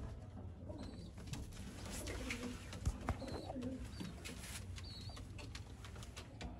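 Soft pigeon coos repeat at intervals amid a busy outdoor background of chirps and distant noise, with a couple of sharp knocks partway through.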